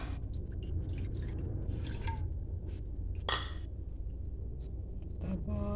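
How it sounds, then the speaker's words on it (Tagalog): Water being poured into a pan for homemade teriyaki sauce with dashinomoto and sugar, a close, steady trickle with splashes and drips, no talk over it. "Lagay natin yung aking water."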